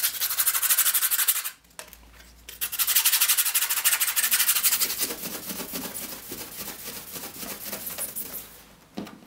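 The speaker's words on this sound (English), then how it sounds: "I do need to sand the edges off because the laser cutting does produce a bit of a burr" Sandpaper rubs back and forth along the burred edges of a laser-cut part for a CO scale TARDIS model, a close, steady scratchy rasping that pauses briefly and then continues in quicker strokes.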